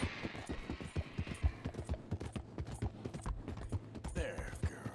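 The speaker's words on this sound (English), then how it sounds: "you just keep riding on these railroad tracks, keeping your horse at a steady pace" Horse hooves clip-clop at a steady trotting rhythm along railroad tracks in Red Dead Redemption 2, close and prominent, with repeated low thuds and no talking.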